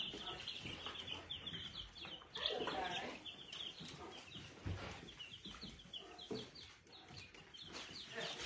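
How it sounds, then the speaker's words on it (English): Little chickens cluck and peep busily close by, with a quick chatter of soft calls and higher chirps while a person talks quietly in the background. "Here's the little chickens"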